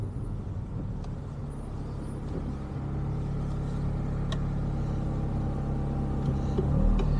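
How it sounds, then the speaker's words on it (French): A car engine running, a low steady rumble that builds slightly and swells louder near the end, with faint clicks and background noise around it. "Alors, on va entendre le moteur."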